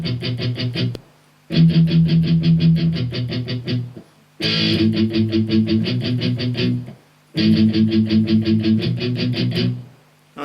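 Electric guitar playing the verse of a song, with chugging, repeated chord strums in three loud bursts separated by short pauses, alone with no talking.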